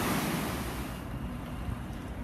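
Ocean waves rolling onto the beach at La Source in Taghazout, Morocco, a loud continuous wash of surf with wind noise on the microphone and no voices.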